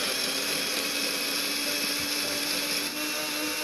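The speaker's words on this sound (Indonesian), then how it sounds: "blender temu kunci dan daun sirih sampai halus" A blender grinds temu kunci rhizome and betel leaves with water into a smooth herbal mix, giving a steady, loud, continuous mechanical whir that holds throughout with no talk.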